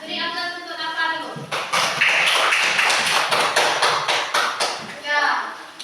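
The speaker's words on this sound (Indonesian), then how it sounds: "Beri aplaus untuk Dafa dulu." Students clapping in an Indonesian classroom, a burst of applause lasting several seconds between a teacher's spoken remarks.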